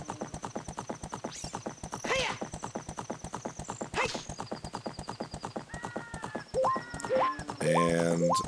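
Epona the horse in Zelda: Ocarina of Time gallops with a steady rapid clip-clop of hooves, with several shrill neighs and whinnies breaking in, alongside game sound effects and chimes near the end.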